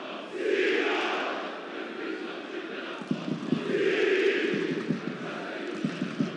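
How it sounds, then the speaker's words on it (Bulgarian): Levski Sofia supporters chanting a two-part song in a football stadium during a match against Slavia Sofia, massed voices rising and falling in waves with scattered claps and shouts. "Песен на два гласа от привържениците на Левски."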